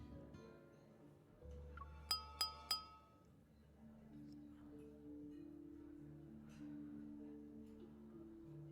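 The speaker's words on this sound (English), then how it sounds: "the crisp sound of clinking glasses captures everyone's attention" In Tomorrow: Land of Secret Flames, wine glasses clink in the hold of a ship: three bright, ringing taps in quick succession over soft sustained background music.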